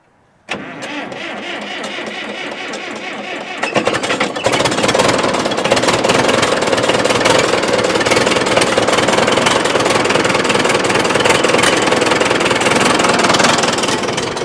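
A Case 830 tractor engine cranks and catches, then settles into a loud, steady idle that runs close by for the rest of the stretch with no talking.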